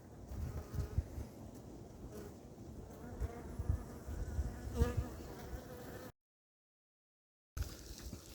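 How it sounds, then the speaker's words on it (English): A honey bee emerging from its wax cell gives off a faint, continuous buzz with small scratchy bumps, broken by a short stretch of silence before the buzzing resumes. "You are witnessing the birth of a bee."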